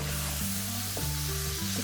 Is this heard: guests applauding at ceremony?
no